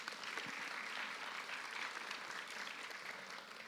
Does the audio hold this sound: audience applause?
yes